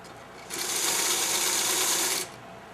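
A sewing machine chain-stitches quilt block fabric pieces for a Light and Shadows quilt, running in one steady, loud whirring burst of under two seconds before stopping, with no voices.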